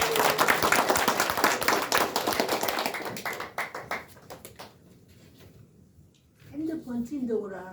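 An audience at an indoor gathering breaks into vigorous applause that lasts about three seconds and then thins to scattered claps. A quiet stretch follows before a voice speaks.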